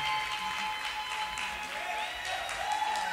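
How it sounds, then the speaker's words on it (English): A school showcase audience applauds helpers and parents with a sustained, even round of clapping from a crowd. A few high whistles and cheers sound above it. "Let's give these folks a hand."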